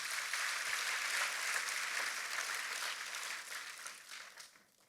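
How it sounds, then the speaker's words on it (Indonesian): A church congregation claps in a loud, steady burst of applause that fills the room for several seconds, then thins and fades away at the end. "tepuk tangannya yang paling meriah buat Tuhan kita"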